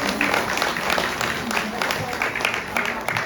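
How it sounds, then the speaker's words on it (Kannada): A workshop audience at a folk song training camp in Dharwad claps loudly and steadily, a dense close burst of applause lasting the whole moment with a voice mixed in. "ನಿಜಕ್ಕೂ ನಾವು ಅದನ್ನು ಜೋರಾದ ಚಪ್ಪಾಳೆ ತರ್ತೀವಿ"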